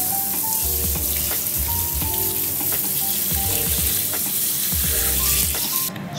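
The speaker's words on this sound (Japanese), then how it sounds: "ここをね、水で流していきたいと思います" Running water rinsing ink from the print head of a Canon MG7530 inkjet printer, a continuous close spatter and splash like rain on a surface, fairly loud, with no talk, stopping abruptly at the end.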